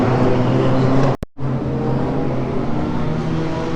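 Wingless sprint race cars warm up at Murray Bridge Speedway, engines droning loudly in a steady layered roar, broken by a short sharp cutout near the start, then continuing with a faint voice in the background.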